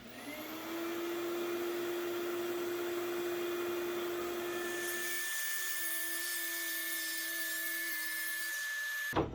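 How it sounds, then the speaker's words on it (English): A dust collection vacuum hooked to a Ryobi track saw roars steadily and close throughout with a high whine; partway through, a motor cuts out and a thinner high hum carries on until a brief thump at the end. No one speaks. "So let's turn on the dust collection and then give this another shot."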